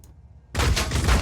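Rifle gunfire in the strategy game Phoenix Point, a sudden dense burst of loud close shots erupting after a brief quiet moment and continuing as a rapid, rattling volley.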